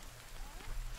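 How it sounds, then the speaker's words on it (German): Soft rainfall in the survival video game The Forest, a quiet continuous patter of drops on surfaces with no speech over it. "weil es regnet"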